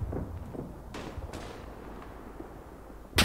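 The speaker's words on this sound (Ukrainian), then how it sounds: "Хтось тут стріляє." Distant gunfire in the WWI shooter Tannenberg, faint scattered shots over a low rumbling battlefield ambience, ending in a sudden loud burst close by.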